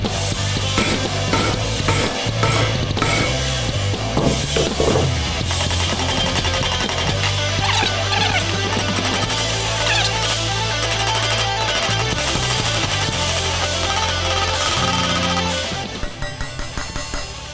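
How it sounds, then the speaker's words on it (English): Ball peen hammer striking a center punch on a tiny handmade ride cymbal, rapid repeated metallic taps that ring brightly, loud and close, in a dense series that stops near the end. "And I'm going to use my ball peen hammer."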